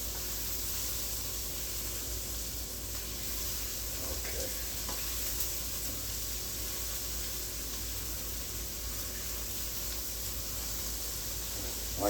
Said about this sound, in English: you want to saute it and get it nice and soft